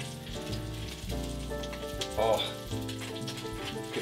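Steady sizzling and crackling of broccoli frying and charring in a hot pan, close and fairly quiet, with a brief louder hiss midway.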